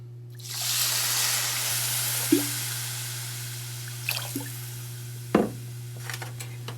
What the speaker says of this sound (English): So we add this water.